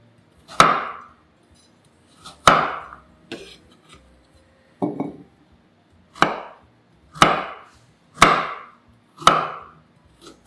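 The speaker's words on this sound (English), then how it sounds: "take 200 grams of carrot and chop into chunk sizes" A knife chopping carrot into chunks on a cutting board, eight sharp, separate thuds spaced about a second apart, close and crisp with nothing else heard.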